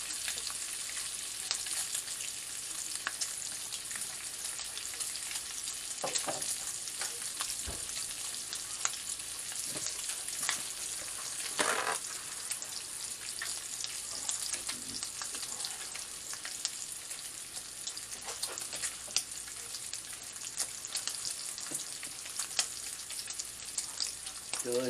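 Bacon frying in a pan, a steady dense sizzle and crackle running continuously, with occasional scraping stirs and small pops, close and fairly loud, no talking.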